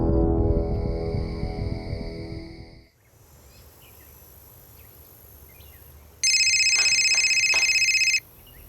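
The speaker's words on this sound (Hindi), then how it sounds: "आपका फोन बज रहा है।" A telephone rings in two separate bursts: a tonal electronic ring that stops abruptly, then after a quiet stretch a louder, sharper electronic ringtone lasting about two seconds at close range.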